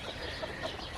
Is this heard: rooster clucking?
yes